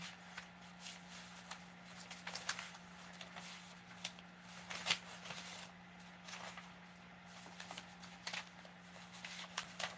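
Papers are rummaged and shuffled up close. The soft crackling rustle comes in bursts over a steady low hum, with no talk.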